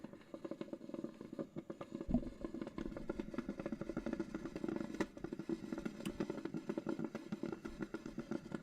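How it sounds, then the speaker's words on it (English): A coffee pot grumbles while brewing, a close, low, rumbling purr with an irregular bubbling patter running steadily throughout. "can you hear that coffee pot grumbling?"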